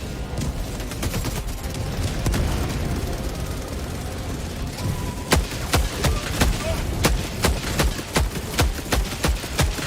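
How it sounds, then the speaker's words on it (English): Helldivers 2 battle: a steady roar of distant gunfire and rumbling blasts gives way to a rapid run of sharp, loud shots and booms, including a grenade explosion. "Throwing grenade!"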